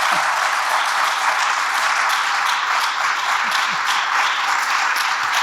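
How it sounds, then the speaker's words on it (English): An audience at an elder panel gives a dense, sustained round of applause that fills the room at a steady level from start to finish. "I think we should give them a wonderful round of applause"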